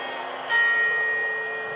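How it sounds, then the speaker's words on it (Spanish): Bells ringing at a New Year's Eve countdown in Spain, a bright sustained metallic chime that swells after a brief quiet moment and lingers with a ringing tone. "Y ahora las campanadas"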